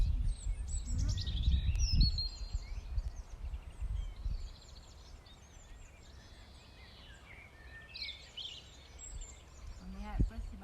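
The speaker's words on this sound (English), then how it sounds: "You hear the birds and the lambs." Faint birdsong twitters on and off in open air, scattered chirps over a low background rumble, with brief handling noises early on.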